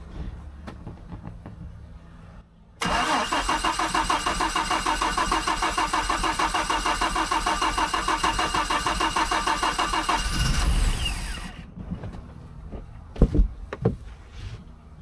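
A boat engine catches, roars steadily and loudly for about eight seconds, then sputters and dies, leaving quiet handling noises and a couple of knocks.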